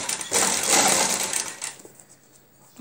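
Sewing machine stitching fabric for a designer neckline, a loud, fast mechanical whirr running for over a second, then stopping and leaving quiet room tone.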